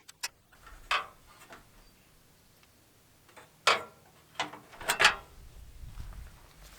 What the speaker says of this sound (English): There's 4 screws that are holding this baby in here. So just take those 4 screws out.